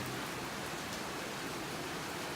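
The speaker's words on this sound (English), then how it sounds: "isn't it good to see the rain? My grass is nearly dead, so I'm loving the rain here today." Steady rain falling outdoors in an Australian backyard, a dense, even broadband hiss of drops on surfaces, continuous and fairly close, with no voices.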